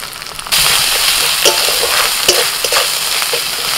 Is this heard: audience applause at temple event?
no